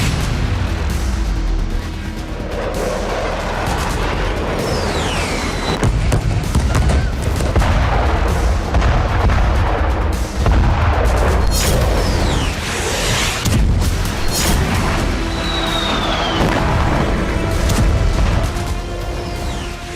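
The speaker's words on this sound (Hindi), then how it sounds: "आसमान से मिसाइलें बरसती।" War footage of missile strikes and explosions, with a dense, continuous rumble of heavy blasts and booms close by. Low-end thuds repeat irregularly for the whole stretch, with occasional whistling streaks above the roar.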